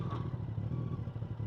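A 2014 Yamaha FZ1 motorcycle engine runs with a steady, close, low rumble and slight throbbing unevenness throughout, with no voices.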